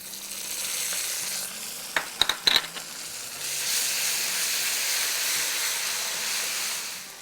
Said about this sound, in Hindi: अब हम इसमें अपना जिंजर गार्लिक पेस्ट डाल देते हैं